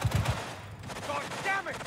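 Machine gun fire from a gun psycho enemy in Cyberpunk 2077, a quick cluster of low heavy bursts at the start followed by fainter background action and brief voices.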